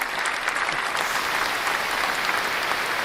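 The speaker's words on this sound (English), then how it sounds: "we just giving a Oh, okay. little applause for the for the brother" A room full of people clapping for a man during a casual talk session, a dense, even wash of applause that holds at the same level from start to finish with no voices on top.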